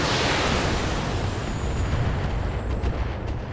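Acid mortars in the BattleTech 3062 video game firing and detonating, a thick rumbling wash of explosions with a few sharp high pops on top, loud and continuous, without talk.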